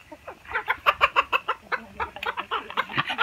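A duck being hand-fed by a child on a rural farm gives rapid, repeated nasal quacks and clucking calls in an uneven rhythm, close and fairly loud, with faint voices nearby.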